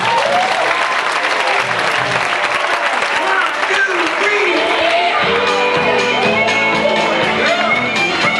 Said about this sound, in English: how about bringing them out with a nice big rowdy round of applause